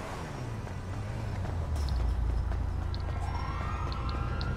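A police siren in the GTA Online video game wails continuously and loudly, its tone rising and falling over a low engine rumble, with no talking.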